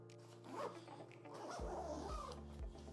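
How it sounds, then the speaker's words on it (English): A zipper on a backpack being drawn shut, a few quick ripping zip strokes close up and fairly quiet, with a faint dog barking in the background. "Done. Zips up."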